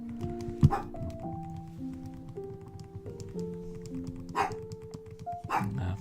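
A dog barks indoors in a few scattered bursts, moderately near, over a soft background of game music with steady tones.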